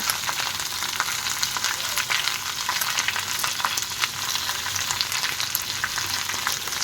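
Ivy gourd curry fries steadily in a pan, a dense continuous sizzle with faint crackles that stays even and close throughout, no voices over it.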